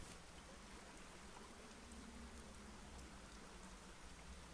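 Steady rain falls throughout in the video game Secret Files: Tunguska, a continuous even hiss of drops with no distinct splashes or other sounds standing out.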